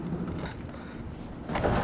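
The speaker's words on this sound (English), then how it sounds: "So there's quite a bit of wind." Strong, gusty wind buffets a sailboat under way in a 14 mph breeze, a continuous low roaring rumble on the microphone that swells louder toward the end, with no voices.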